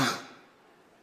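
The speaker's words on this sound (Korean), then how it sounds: "제가 생중계 생방송 과정에 재채기를 했습니다" A single sharp sneeze bursts out at the very start during a live broadcast, loud and close, then fades into quiet.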